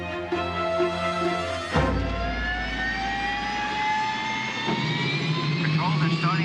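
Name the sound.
aircraft engines starting up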